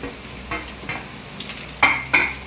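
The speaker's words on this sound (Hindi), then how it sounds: "हाई फ्लेम पर ही अच्छे से 2 से 3 मिनट तक भूनेंगे" Mixed vegetables stir-fried for veg chowmein over a high flame, a soft steady sizzle with several scraping stirs, the last two sharper and louder.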